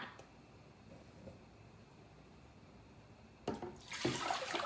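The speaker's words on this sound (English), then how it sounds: "Take another pot and put 5 cups of water for your boba inside." After a quiet stretch, water for boba suddenly gushes and splashes into a pot nearby, growing louder as it keeps pouring.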